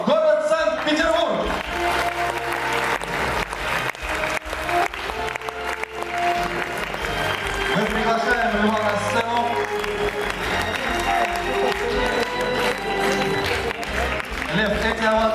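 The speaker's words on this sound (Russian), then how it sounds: "эти овации для вас" Audience applause fills a concert hall at an accordion gala awards ceremony, steady and loud for the whole stretch, with music-like tonal layers underneath and some talk mixed in.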